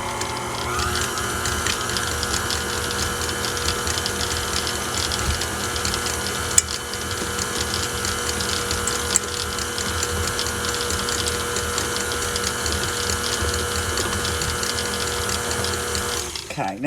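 Electric hand mixer beating cream cheese frosting with vanilla and powdered sugar, a steady close mechanical whir with rattling gears running continuously, no talk, cutting off at the end.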